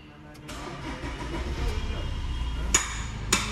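A Maruti Swift that has a pulling problem is cranked and starts up, the starter whirring into a mid-pitched running engine that settles toward idle, with someone talking over it and a couple of sharp knocks.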